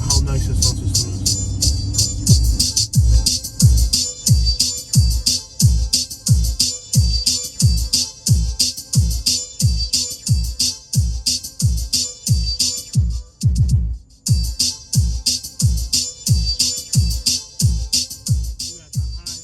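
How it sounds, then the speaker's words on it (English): A bass-heavy beat pumps loudly through a car sound system at night in Waco, Texas, with punchy regular kick hits and bright sizzling hi-hats throughout, briefly cutting out before picking right back up. "Just show you guys how nice this sound system is."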